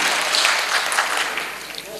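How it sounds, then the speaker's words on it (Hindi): A crowd claps together in a short, dense burst at an event remembering Fatima Surayya Bajia, the applause fairly loud and smooth as it gradually fades over two seconds. "तो अभी बजा के बताएं किस तरह बजाते हैं तालियां।"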